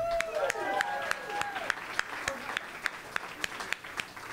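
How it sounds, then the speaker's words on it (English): A small audience claps, with sparse, distinct individual claps ringing out at a steady pace alongside some voices and cheering near the start. "Let's give another round of applause for Marlon Fisher."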